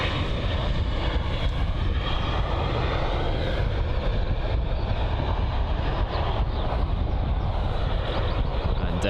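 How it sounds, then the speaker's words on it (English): EasyJet Airbus A320-200 jet just arrived at London Luton airport, its engines producing a steady, loud broadband roar with a deep low rumble that holds constant throughout, close by and with no talk over it. "So this here, the EasyJet A320-200 that has just arrived from Naples."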